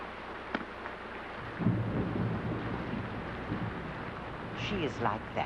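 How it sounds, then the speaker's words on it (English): Steady rain falls through a thunderstorm, with low rumbling thunder rolling under the downpour and a voice speaking faintly for a moment near the end. "Sometimes it is nice just to sit and listen to the rain"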